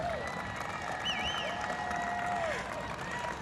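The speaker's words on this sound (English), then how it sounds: "Can we get a round of applause for the people of Grand Island?" Audience applause at an outdoor public announcement by Governor Cuomo in Grand Island, a steady wash of clapping with a few sharp whistles rising over the crowd noise throughout.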